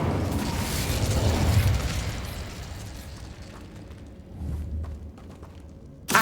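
The Incendio fire spell cast in Hogwarts Legacy gives a loud, rumbling burst of flame that slowly fades, swells briefly again, then ends in a sharp, close pop.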